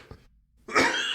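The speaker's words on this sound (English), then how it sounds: "and that's me coughing." A single sharp cough close to the microphone, preceded by a brief breath, with no talking.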